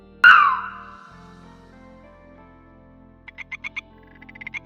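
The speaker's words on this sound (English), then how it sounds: "F is for frog." A loud twangy croak up front, then a series of short, quick, rhythmic frog croaks, cartoonish and close.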